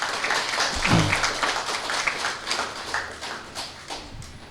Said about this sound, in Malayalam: നിങ്ങളെല്ലാവരും അദ്ദേഹത്തിന് ഒരു വലിയ കയ്യടി കൊടുക്കുക